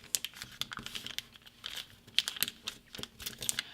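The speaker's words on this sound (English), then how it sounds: "So now you want to fold this edge to that crease." Paper being folded along a crease while making a paper pirate ship: close, rapid crinkling and crisp rustles in quick irregular bursts, with soft creasing taps and no voices.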